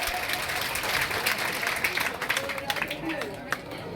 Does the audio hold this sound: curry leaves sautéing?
no